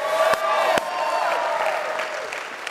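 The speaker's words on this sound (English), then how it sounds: "Come on, make it louder for Jesus" Church congregation applauding and cheering, a broad wash of clapping and crowd noise with a few sharp claps near the start, sustained throughout.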